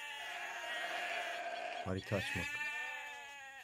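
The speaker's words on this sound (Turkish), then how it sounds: "Adama 50 tane koyun gönderdik." Sheep bleating in the Age of Empires II Definitive Edition strategy game, a short burst of two or three bleats partway through, with players talking over them throughout.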